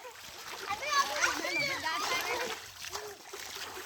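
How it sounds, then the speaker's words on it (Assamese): Water splashing and sloshing as cows are bathed for Goru Bihu, with irregular splashes close by and children's voices talking over them. "আজি যিহেতু গৰু বিহু গৰু গা ধুৱাইছে"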